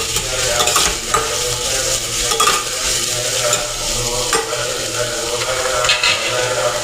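Bitter gourd and onions frying in a pan while a spoon stirs them, a loud close sizzle with repeated scraping strokes and light metallic knocks, no voices.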